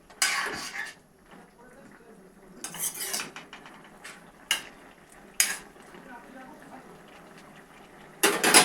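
Metal cookware clanks and scrapes as a lid is handled over a cooking pan holding fish. A few loud, close clatters break up quieter stretches of soft kitchen noise.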